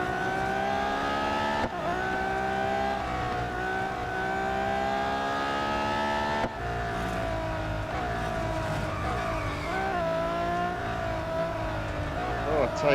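A race car engine in the Real Racing 3 mobile game drones steadily at high revs, holding a sustained harmonic whine that briefly dips around gear changes and shifts pitch as the car fights for grip during a multi-lap race.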